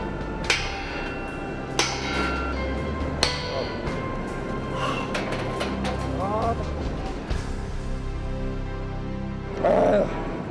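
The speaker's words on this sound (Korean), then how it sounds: "얼마나 고된 작업인지 이 망치질 앞엔 젊음도 소용없다" Heavy hammer blows ring out on steel during tower crane climbing work at a high-rise construction site, three sharp, loud strikes spaced a second or so apart, with workers' voices and site noise around them.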